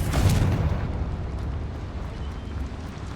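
A Confringo blasting spell explodes in a wizard video game, one deep booming burst at the start that rumbles and fades over a few seconds, with no talking.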